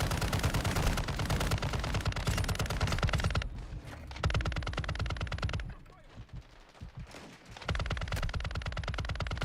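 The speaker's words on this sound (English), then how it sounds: "We shoot every bullet in this LMG for this guy dies" Sustained bursts of light machine gun fire in Call of Duty: Modern Warfare 2, a long rapid stream of shots broken by a few brief pauses, with background game sounds and no talk.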